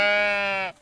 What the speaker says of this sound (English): Good sheep.